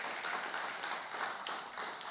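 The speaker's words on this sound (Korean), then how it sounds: "여러분 청소년들을 위해서 잘 자라라 축복의 박수 한번 해주시면" A church congregation at a Sunday worship service claps to bless the youth group, a steady, even wash of many hands that sounds soft and somewhat distant in the sanctuary.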